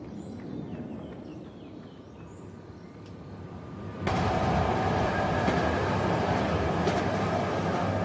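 An RER commuter train rumbles along an underground line beneath central Paris. A steady low roar jumps abruptly to a louder, dense, broadband rush halfway through and then holds constant, with no voices.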